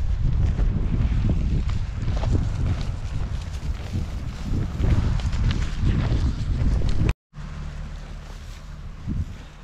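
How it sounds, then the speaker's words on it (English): Strong wind buffets the microphone outdoors on a very windy day, a loud continuous low roar with gusty swells that briefly cuts out before resuming. "very windy today"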